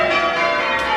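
Church bells of St John's Church in Bollington peal in a steady, ringing wash of overlapping tones, loud and continuous throughout, with no voices.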